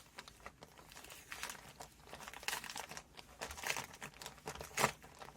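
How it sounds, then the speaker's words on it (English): A purple adhesive strip is peeled off a shipping envelope, giving soft, close crinkling and tearing rustles of paper and plastic with a few louder crackles, quiet overall. "that's when we're going to peel off our purple bit."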